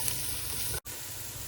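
Garlic and chilies sizzle in oil in a pot for chicken biryani, a steady, soft frying hiss broken by one brief gap as if the pot is stirred.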